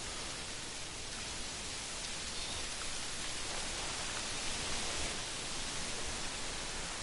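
Wind and rain in a PS4 hunting video game make a steady, unbroken hiss of rushing air and falling rain that stays even throughout, with no voices.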